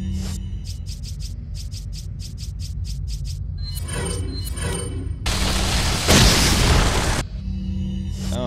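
A flashbang grenade in the Resident Evil 4 video game goes off in a loud, sustained crackling burst after rapid repeated game tones and pulses.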